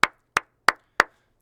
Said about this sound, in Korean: 드디어 이건 박수 쳐야 돼